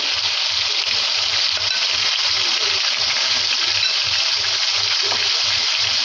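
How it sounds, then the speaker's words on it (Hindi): Yogurt being added to chicken masala in a pot for yakhni pulao, a steady close sizzle and bubbling hiss running through the whole stretch with a soft low stirring pulse beneath. "यहाँ पर डालेंगे हम इसके अंदर आधी प्याली दही"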